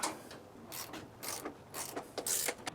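A ratcheting wrench tightens bolts on a go-kart, quick bursts of clicking pawl strokes up close, repeated several times.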